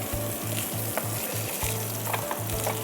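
Pieces of rui fish frying in hot oil and being lifted out of the pan give a continuous close sizzle over a rhythmic low knocking pulse, with faint clinks and no voices.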